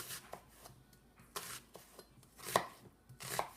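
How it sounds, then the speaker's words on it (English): A knife cuts an onion into thin slices on a cutting board for a turkey Bolognese sauce, giving a few soft, separate taps and strokes, quiet and close, with no talking. "go ahead and slice, not all the way through, so everything remains connected here, but you make thin slices"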